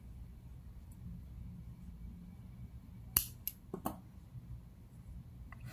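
Scissors snip crochet yarn in a few quiet, quick clicks and cuts close by, following a stretch of near silence.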